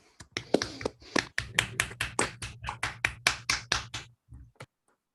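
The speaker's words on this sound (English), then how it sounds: "maybe we should all give a round of applause to our organizers first" Audience applause for conference organizers at a talk: a steady run of about twenty evenly spaced, distinct claps, close and clear, keeping a regular beat before stopping abruptly.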